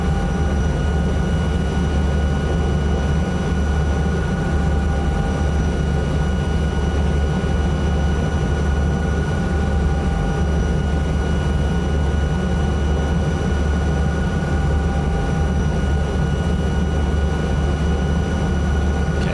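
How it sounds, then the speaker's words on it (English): A helicopter in flight in the Microsoft Flight Simulator 2024 game, a loud, steady, unbroken engine and rotor drone heard from inside, with no voices. "What a fantastic helicopter."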